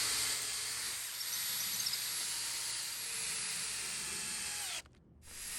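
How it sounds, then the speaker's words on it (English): A power drill with a 1/4-inch bit bores out a hole through a wooden deck frame piece on a tall wood swing set, whirring steadily at a constant pitch for several seconds before cutting off abruptly. "enlarge the hole through just the deck frame piece with a 1/4-inch drill bit"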